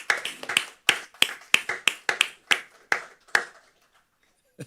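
Scattered hand claps from a small group at a city commission meeting, about ten sharp, uneven slaps over a few seconds that thin out and stop, leaving near silence at the end.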